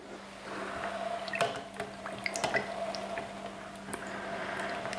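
Melted candle wax is poured and stirred, giving faint, close wet drips and small clicking taps over a quiet background hum.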